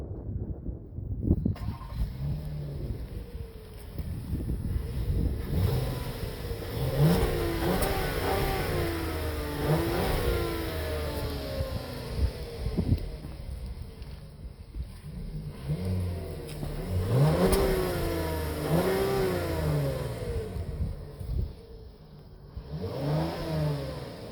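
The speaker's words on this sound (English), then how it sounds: "let's turn it on and hear the exhaust" A 2020 Volkswagen Atlas R-Line SUV engine cranks and starts in freezing cold, then revs repeatedly with deep exhaust roars rising and falling between stretches of idling, close by.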